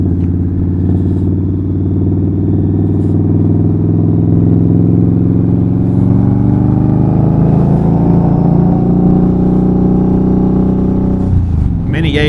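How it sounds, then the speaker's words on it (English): A 2019 Indian Scout Bobber motorcycle with a Vance and Hines exhaust rumbles in a deep, loud, steady idle close by, its pitch rising as the engine revs up partway through before a sudden shift at the end. "this is a 2019 Indian Scout Bobber, Vance and Hines exhaust."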